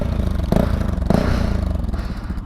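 A Bajaj Pulsar NS200 motorcycle fitted with an Akrapovic exhaust rumbles steadily at close range, with two sharper blips of revving partway through and no talking.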